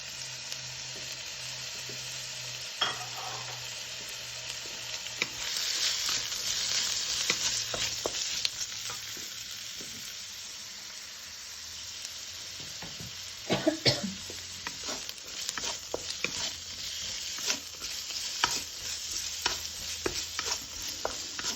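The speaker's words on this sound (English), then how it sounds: "I'll add the little oil, then the onions, and keep them moving so they brown evenly" Onions fry in a little oil in a wok at moderate heat, with a steady close sizzle and repeated scraping of stirring, plus a cough partway through.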